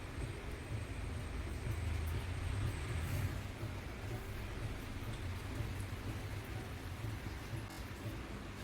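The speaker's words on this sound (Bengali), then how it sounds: "প্রচণ্ড বৃষ্টি হচ্ছে কলকাতায় সব দিকেই হচ্ছে" Heavy rain falls across Kolkata, a dense continuous wash of rainfall heard from indoors at a low, even level with no voices.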